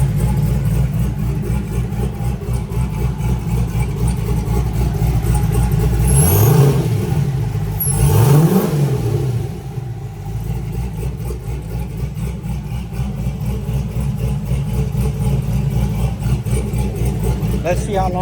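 Turbocharged LS-engine Camaro runs at a steady idle nearby, the turbo whine rising and falling briefly in the middle while a person talks over the continuous engine drone.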